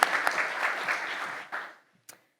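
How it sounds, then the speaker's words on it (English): An audience at an annual foundation meeting claps steadily for about a second and a half before the applause fades out, leaving a single late clap. "A little round of applause to everyone."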